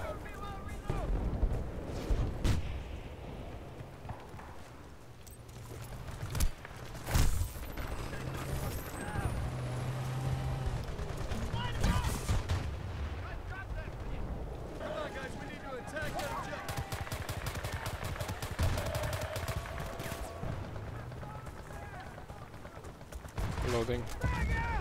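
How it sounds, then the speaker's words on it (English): Gunfire in Battlefield Bad Company 2, sharp shots scattered through a dense game soundscape with rumbling background battle noise, a few louder cracks standing out near the start and middle, plus talk. "other guy shooting from long range"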